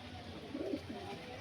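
Two domestic pigeons, a breeding pair, give a soft low coo close by over steady background hum.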